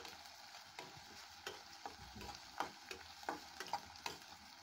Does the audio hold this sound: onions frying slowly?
yes